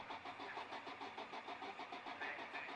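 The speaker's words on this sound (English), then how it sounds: "Piers Grange hopefully can fire the car up." Race car engine in a Modified Fords race at Oulton Park, cranking repeatedly without firing, a rapid steady rhythmic starter churn at moderate distance, with no voices.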